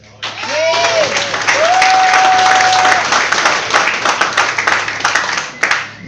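Loud, dense applause and clapping from a comedy club audience swells quickly and holds steady, with a few whoops rising over it before it thins out near the end.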